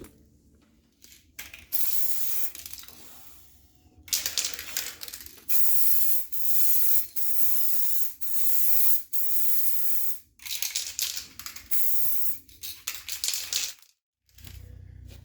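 A spray gun lays a fresh coat of paint onto an old Mopar car body, hissing in repeated long bursts separated by short pauses, close and loud, with a longer gap near the end.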